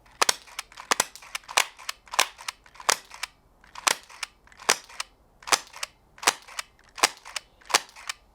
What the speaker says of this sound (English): let's pull the trigger and see if it fires